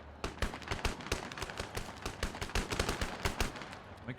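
Rapid, loud bursts of tank gunfire in the strategy game Civilization VII, with sharp cracks firing in quick succession throughout, fairly close and unbroken by talk.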